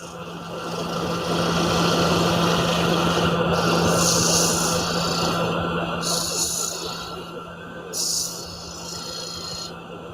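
A woodturning gouge with a 55-degree swept-back wing grind cuts face grain on a lathe, giving a steady whining rasp over the motor's constant hum, with a few brief scraping bursts as the tool rides the wood.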